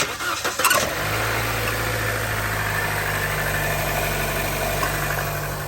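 A 2012 Chevy Cruze with 188,000 miles and a newly installed aluminum thermostat housing cranks briefly, catches and settles into a steady close idle hum.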